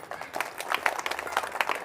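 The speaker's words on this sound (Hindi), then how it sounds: "ताली बजनी चाहिए आपकी" An audience claps in a brief spell of steady applause, scattered hand slaps blending into a continuous patter, with a voice partly audible under the noise.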